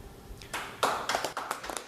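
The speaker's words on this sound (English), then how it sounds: "No, don't clap for her" A few seconds of audience applause in a political chamber or parliamentary session, scattered claps swelling into a brief, moderately loud burst of clapping from a crowd, with no voices over it.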